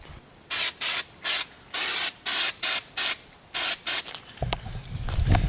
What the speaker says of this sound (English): Tried to paint this with some textured paint